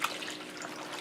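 Tap water runs steadily into a kitchen sink while collard greens are rinsed, a continuous soft splashing trickle heard close by with no talking.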